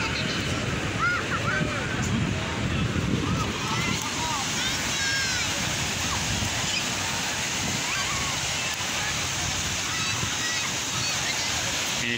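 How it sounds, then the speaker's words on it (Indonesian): Waves wash steadily onto Teluk Penyu beach on a busy Sunday, a continuous broad surf roar mixed with wind, with faint distant crowd voices and birdlike chirps in the background throughout. "Ini dia suasana pantai Teluk Penyu di hari Minggu tanggal 14 Mei 2023."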